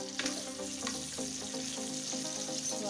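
Chopped onion fries in already-hot oil in a pan, a soft continuous sizzle with faint crackles and occasional stirring clicks, fairly quiet with no talking.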